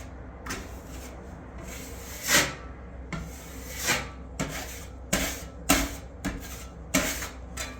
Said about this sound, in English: sanding it down with a spatula